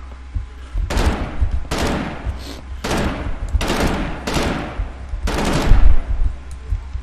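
Rapid gunfire in the video game Totally Accurate Battlegrounds, several loud bursts of automatic shots spaced about a second apart, punchy and close, with faint talk in between.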